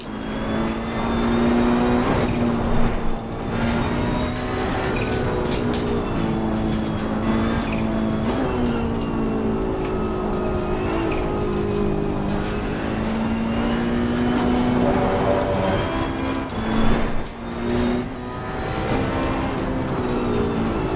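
Ferrari 488 Challenge Evo race car engine in the racing game Assetto Corsa Competizione at Oulton Park, a steady loud high-revving drone with gear shifts and brief tyre squeals, continuous and up close with no talk.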